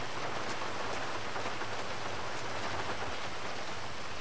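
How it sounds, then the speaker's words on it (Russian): Steady rain pours down in the GTA 5 video game, a dense, even hiss of drops falling on surfaces that holds at the same level throughout, with no voices over it. "Дождик, да, классный. Хороший."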